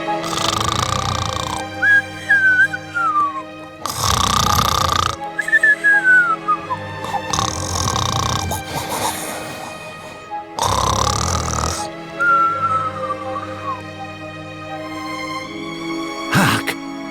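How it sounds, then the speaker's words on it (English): A wolf from the video game Eiyuden Chronicle snores loudly in a slow, regular rhythm, with five long raspy breaths each followed by a whistling exhale, set against light background music and ending in a sharp thump. "What is all that raucous snoring?"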